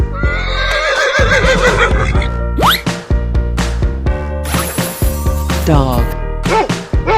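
Game horse gives a loud, close whinny in a 3D animal slide game, layered over lively music and sound effects, with quick clip-clop-like hits and a second neigh near the end.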